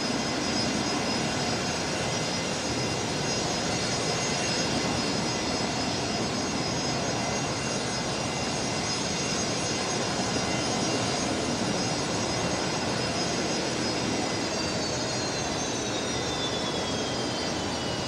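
A VietJet airliner at Brisbane Airport at night, a loud, steady jet engine roar that fills the whole stretch with broadband rumble and a faint high whine sliding downward near the end, no talking.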